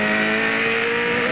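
Onboard engine of a V8 Supercar racing at Canberra in 2001, a loud, dense, sustained roar at high revs with steady tone and no breaks, heard alone.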